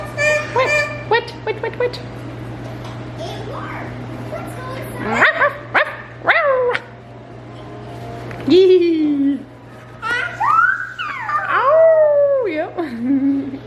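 A pet dog barks and howls indoors, with short yips followed by long, wavering howls that rise and fall, while a child and an adult talk briefly between the calls.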